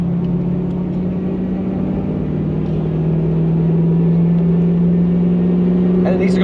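Inside a moving Toyota Prado fitted with an M90 supercharger, a steady droning howl sits over a constant engine rumble, loud and unbroken throughout while driving.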